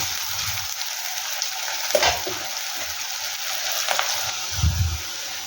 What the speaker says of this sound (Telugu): ఇలా సన్నగా కట్ చేసుకొని వీటిని బాగా ఫ్రై చేసుకోవాలి. బాగా ఎర్రగా వేగాలి.